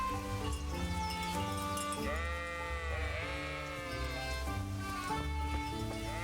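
Sheep bleating in the medieval game Kingdom Come: Deliverance, several wavering bleats overlapping one after another, fairly close and clear over a steady background of farm ambience.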